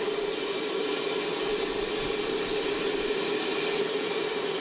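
A Gulfstream III private jet in flight gives a steady, loud cabin roar of engine hiss and broadband rush with a faint tonal whine, unchanging throughout and with no voices.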